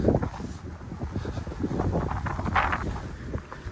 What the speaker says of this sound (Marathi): त्या दिशेपेक्षा या दिशेला जास्त वारा असतं